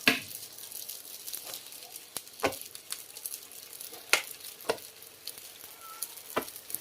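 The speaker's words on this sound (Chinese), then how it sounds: "然后我们给它翻个面，把另一面也给它烙至金黄。" A chive pocket pan-frying after being flipped, giving a quiet steady sizzle broken by a few sharp clicks and taps, with no talking.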